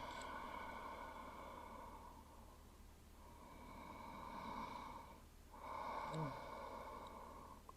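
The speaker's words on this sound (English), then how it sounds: "Last few breaths here" Slow, deep breaths during a root-focused yoga practice, each long airy inhale and exhale close and soft, with brief pauses between breaths and no talking.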